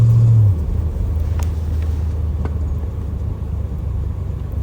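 A 1967 Chevrolet Caprice with a 454 big block V8 drives along, its deep, loud engine rumble steady and close, with a brief louder low burst at the start.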